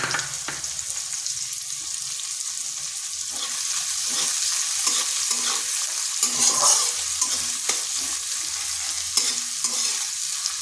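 Chopped onion fries in hot oil with bay leaf, cumin seeds and a dried chilli for a soybean and egg curry, a steady close sizzle broken by repeated scrapes and stirs of a spoon in the pan.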